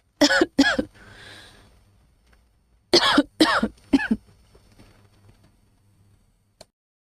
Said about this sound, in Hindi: मुझे आई वॉज कॉफिंग, खांसी आ गई थी